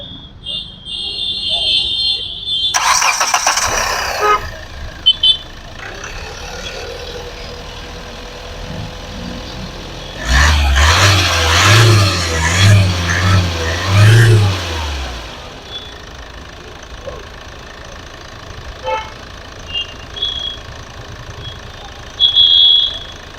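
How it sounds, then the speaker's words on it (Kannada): A 2011 Hyundai Verna Fluidic SX automatic diesel in very good condition cranks to life, idles, then revs loudly for several seconds before settling back to a quieter idle, with brief beeps along the way. "ಹಂಗೆ ಸ್ಟಾರ್ಟ್ ಮಾಡಿನೂ ಕೂಡ ಇಂಜಿನ್ ತೋರಿಸ್ತೀನಿ"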